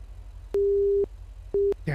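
A phone busy signal from a GTA roleplay game sounds as two steady electronic tones, one longer beep followed after a short pause by a shorter one, over a low background hum.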